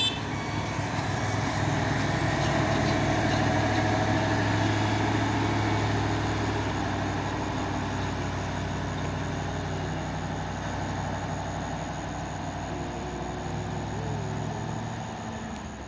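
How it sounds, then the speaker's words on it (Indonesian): A heavy CPO tanker truck labors up the Bukit Kodok hill in the morning, its engine a steady, loud low drone throughout with a faint high tonal whine on top, no talk. "truk tangki CPO melewati tanjakan Bukit Kodok di pagi hari."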